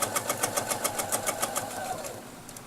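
A sewing machine stitches along reference lines, its needle clattering in a fast, even rhythm for about two seconds before slowing and stopping.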